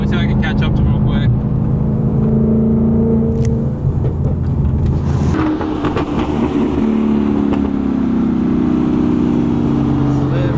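Stock Mustang engine accelerating hard during a street race, a loud steady roar with rising engine tones, heard from inside a car with people talking over it.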